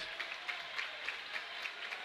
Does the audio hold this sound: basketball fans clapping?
yes